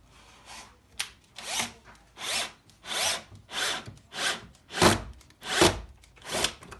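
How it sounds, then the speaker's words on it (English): A drill bores into wood while building a poker table, in a series of about nine short bursts, each a grinding rasp separated by brief pauses. "So what we need to do now is drill these to this."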